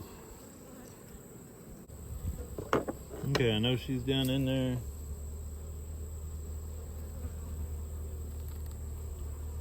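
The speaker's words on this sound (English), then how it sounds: "There is a lot of bees." Bees swarm and buzz around an opened backyard hive being inspected, a low steady hum running throughout with a louder burst of close buzzing near the microphone partway through, while a person speaks briefly.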